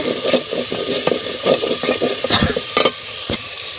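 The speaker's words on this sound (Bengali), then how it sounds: "অনেকক্ষণ কষিয়ে নিতে হবে" Spiced egg and pumpkin bori sautéing in a pan, stirred again and again with a spatula, with a steady close sizzle and frequent scraping strokes and knocks against the pan.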